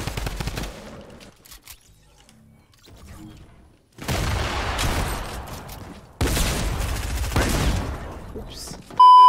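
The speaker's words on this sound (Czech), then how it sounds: "To je drum gun, ne?" Drum gun firing in Fortnite, long rapid full-auto bursts, a short spray first, then two loud sustained volleys separated by brief pauses.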